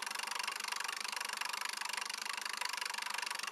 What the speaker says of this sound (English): And now it's running this motor.